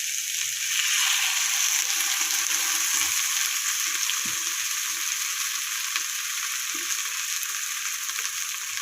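Gimai greens curry simmering and sizzling steadily in a pan just after water is added, a continuous close bubbling hiss with a few soft stirring knocks.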